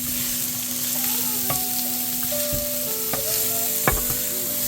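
Garlic and seasonings sizzle steadily in hot oil while being stirred, with a continuous frying hiss broken by occasional soft scrapes and clicks of a utensil against the pan.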